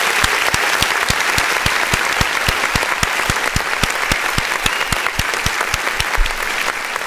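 Steady, dense applause from an audience rolls on evenly, loud and close, with no voices over it.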